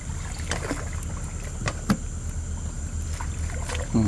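A small fishing boat motors slowly across a familiar pond at night while nets are pulled, a steady low rumble with faint scattered clicks and light knocks, distant-sounding and without speech.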